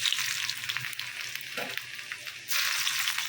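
Cumin seeds (jeera) frying in hot oil give a close, steady, crackling hiss with a brief stirring scrape midway, and the sizzle swells louder near the end.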